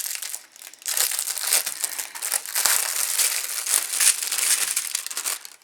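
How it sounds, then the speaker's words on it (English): Plastic stationery packaging from a Warehouse Stationery wolf-with-dreamcatcher item crinkles and crunches continuously at close range for several seconds, with brief dips in between and no voices. "Just a bit of crinkling, hang fire."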